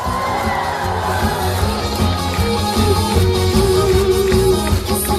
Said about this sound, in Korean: 여러분의 박수와 함성 소리가 지금 바로 필요합니다